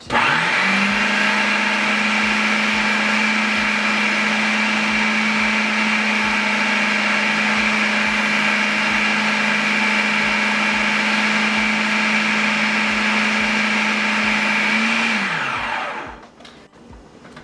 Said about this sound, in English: I'll start grinding the meat into a kebab consistency